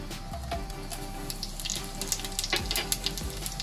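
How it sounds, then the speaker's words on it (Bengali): Dry chillies, whole garam masala and cumin seeds frying in fish oil, a crackling sizzle with scattered pops and spoon clinks, some watery splashing over a low hum. "এটা আমি তেলের মধ্যে ফোড়নে দিচ্ছি"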